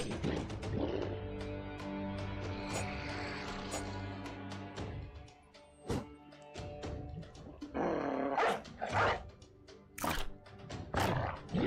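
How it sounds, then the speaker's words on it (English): Dogs in the video game The Forsaken bark and snarl in loud bursts over a droning game music bed, with several sharp impacts, several snarls clustered near the end. "We have so many dogs just running amok right now."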